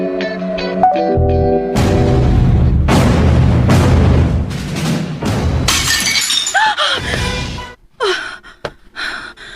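A drinking glass shatters loudly indoors amid a dramatic scene, a sharp crash followed by scattered tinkling shards and clatter, with brief raised voices and a gasp afterward.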